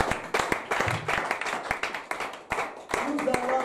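A church congregation claps in acclaim of the Lord, sharp irregular hand claps scattered across a few seconds with voices mixed in underneath.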